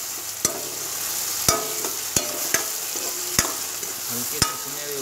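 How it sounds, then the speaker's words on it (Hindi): Chillies and garlic frying in a pan with steady sizzling, punctuated by about six sharp clinks of a spoon or spatula stirring against the metal, close and loud with no talk. "अब इसको चलाते रहो, ये भी हल्की सुनहरी हो जाएगी"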